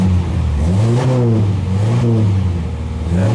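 A 1994 Ford Ranger pulled from an abandoned barn idles steadily after a cold start, a loud, close engine drone with slight rises and falls in revs and a light mechanical clatter, no talking.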